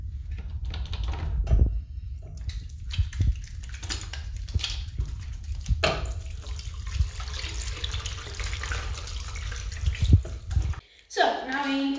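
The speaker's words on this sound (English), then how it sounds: "So now it is very important to wash your hands." Water runs from a bathroom tap as hands are washed, a steady close splashing with knocks and handling sounds, then stops near the end as the tap is turned off.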